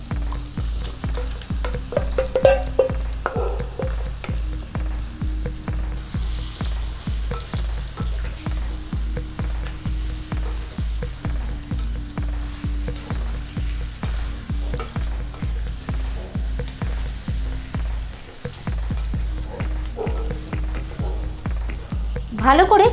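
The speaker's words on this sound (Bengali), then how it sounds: "এখন আমি ম্যারিনেট করা চিকেনগুলো দিয়ে দিচ্ছি।" Marinated chicken fries loudly in spiced oil in a handi, a dense continuous sizzle with a steady rhythmic pulsing beneath, close and unbroken, with no talking.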